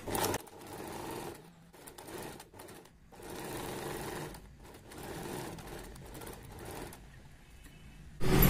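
Sewing machine stitching lining onto a kurti, a steady close mechanical whir in short runs with brief pauses between them, quiet and alone.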